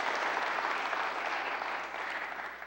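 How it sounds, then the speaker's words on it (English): A church congregation applauds in thanks for a performer, a dense, steady wash of clapping from many hands that holds for the whole stretch and eases slightly toward the end, with no voices over it. "Could you, with your applause, say thank you to Sarah?"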